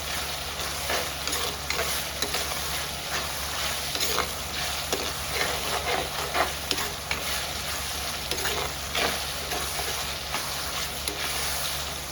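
Continuous bubbling and sizzling from a pan of Tamil kara kuzhambu, a spicy curry with shallots and garlic, boiling on the stove, with soft stirring scrapes now and then; steady and close, with no talking.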